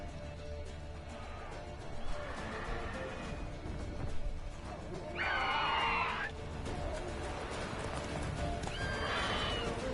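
Roach, Geralt's horse in the video game The Witcher 3: Wild Hunt, lets out a loud whinny at mid-clip and a fainter one near the end, over steady hoof clip-clops and a continuous outdoor ambience.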